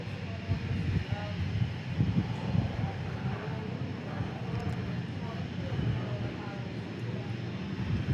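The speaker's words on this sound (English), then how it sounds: "we got a King Air landing" A Beechcraft King Air turboprop landing at Dallas Love Field gives a steady, moderately loud broadband roar with low rumble, holding evenly throughout without distinct peaks.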